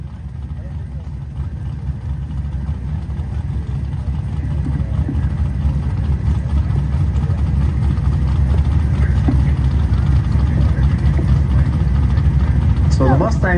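At a charity airport drag race, a 6-liter Camaro and an 82 Mustang rumble at the start line in a loud, steady low engine drone that swells slightly, with an announcer talking over it.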